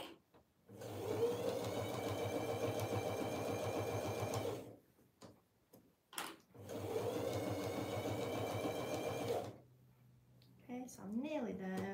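A sewing machine stitching fabric binding around a quilt edge runs in two long, steady motorized bursts of rapid needle rhythm, separated by a pause with faint handling, and a short voice at the end.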